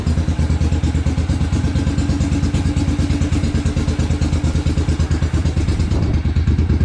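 A Moto Guzzi V-twin motorcycle more than 50 years old, ridden with its engine throbbing in a loud, steady, rapid pulse close by, with no talking.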